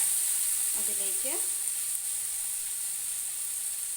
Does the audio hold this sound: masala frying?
yes